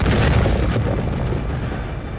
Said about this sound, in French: L'artillerie lourde ouvrit le feu.